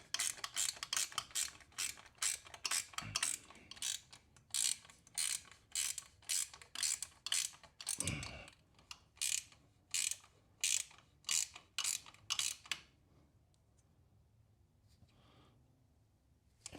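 A Honda CTX700 exhaust clamp is screwed in and tightened, giving a rapid series of sharp metallic ratcheting clicks in bursts that stop partway through, followed by quiet.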